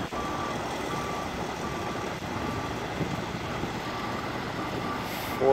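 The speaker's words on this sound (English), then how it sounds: "Forklift is backing up some more with the big pipe." Reversing beeps sound from a forklift backing up with a big pipe on a work site where a pile driver and a welder are also working, carrying as a repeating tone over steady outdoor machinery noise.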